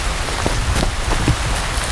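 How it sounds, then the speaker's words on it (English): Heavy rain pouring down at a hammock camp in Big South Fork, Tennessee, a loud, dense, continuous wash of drops with scattered sharper patters, close by and steady throughout. "I hear that rain is dumping"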